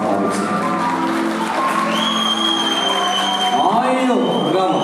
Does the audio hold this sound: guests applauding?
yes